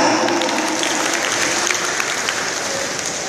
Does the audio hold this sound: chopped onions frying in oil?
no